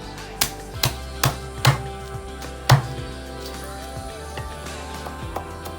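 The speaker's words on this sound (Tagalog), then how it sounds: "kailangan nating pinong-pino ang bawang, sibuyas, luya" A knife finely chops garlic, onion and ginger on a cutting board for salabasab, giving several sharp distinct taps in an uneven rhythm, close and clear over quiet background.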